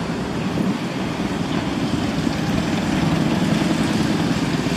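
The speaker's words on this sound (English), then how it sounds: "Beautiful old cars coming in, and of course because they're mixing in with the normal traffic" Engines of vintage cars on an old crock run rumble steadily as they pass amid nearby normal traffic, a continuous low drone with no talking.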